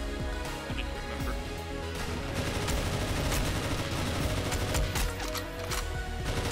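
Shotgun blasts in a video game, heard as loud, dense and near-continuous volleys of gunfire crowding over one another with no pauses.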